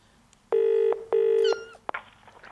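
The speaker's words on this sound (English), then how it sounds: "pensioner Grace Evans is making a telephone call" Two long beeping tones of a telephone being dialled ring out, close and loud with a short gap between them. A brief click follows, then a faint rustle.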